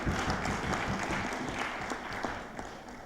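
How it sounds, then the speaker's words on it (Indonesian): A hall crowd at a parliamentary commission hearing applauds the candidate TNI commander, Admiral Agus Suhartono, with steady, dense clapping that continues at an even level from start to finish. "rasanya pantas kita berikan aplaus dulu"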